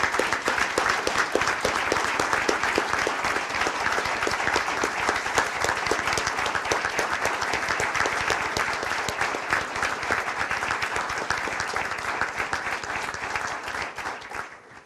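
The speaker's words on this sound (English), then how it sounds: "let's give these guys a round of applause for their heroism" A city council chamber audience applauds firefighters, a dense, steady roar of clapping that holds at an even level for about fifteen seconds before tapering off at the very end.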